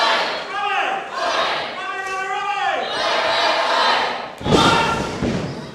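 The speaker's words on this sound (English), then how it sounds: "The crowd coming unglued." A wrestling crowd at a Marion community centre show erupts in rising cheers and yells around thudding ring impacts, loud and boisterous, with a commentator talking over the noise.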